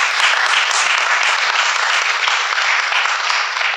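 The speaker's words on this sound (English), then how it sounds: "So we're proud of this. Give him a round of applause." An audience at a governor's press conference breaks into loud, sustained applause, a dense wash of clapping hands that holds steady for a few seconds without voices.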